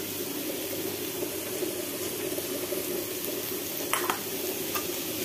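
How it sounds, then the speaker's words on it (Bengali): Greens cooked with garlic, onion, dried chilli, black cumin and fried potatoes are stirred in a pan, giving a steady close sizzle and scraping with a couple of brief clinks near the end. "এই যে এর মধ্যে একটু আলু ভাজা করে রেখেছিলাম, সেটা দিয়ে নেড়ে চেড়ে নিচ্ছি।"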